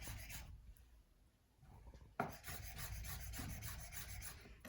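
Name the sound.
cutting ingredients roughly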